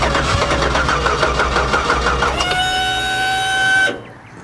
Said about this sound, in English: I can sure hear that fuel pump.